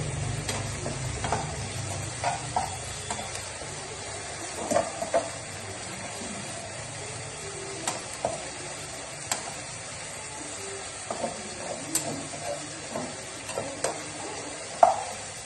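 Tomato sauce for pasta frying in a pan, a continuous soft sizzle with scattered light stirring clicks and scrapes throughout, steady and close, no voices.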